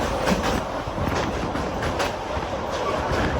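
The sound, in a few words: Intercity Superfast Express train running on rails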